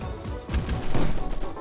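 Gunfire in a Roblox shooter game, bursts of shots at a steady middle distance, several quick cracks running together over a noisy background.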